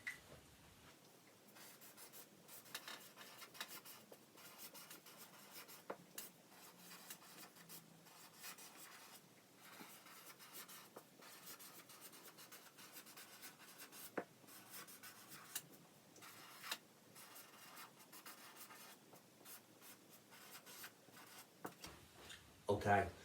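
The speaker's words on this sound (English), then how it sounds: "Have a think now while I write my question on the board." Chalk or a marker scratches and rubs steadily across a classroom board as a question is written out, a faint, continuous stream of strokes with small pauses between them.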